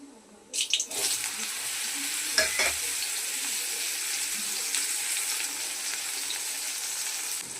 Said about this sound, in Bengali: সর্ষে, তেজপাতা আর শুকনো লঙ্কা। তারপর দিয়ে দিচ্ছি এই কাঁচা আমটা।